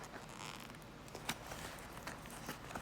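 The zipper on a knife's zipper pouch, for a Liong Mah Hawk knife, is pulled in several short, quiet, scratchy runs close up with small clicks, and no voice is heard.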